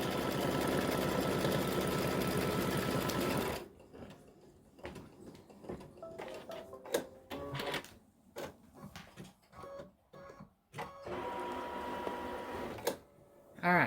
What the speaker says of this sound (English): it's stitching a triple stitch